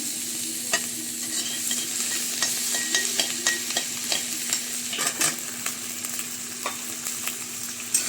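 Chicken pakora for chilli chicken fries in a pan with a continuous close sizzle, punctuated by frequent light clicks and scrapes of stirring.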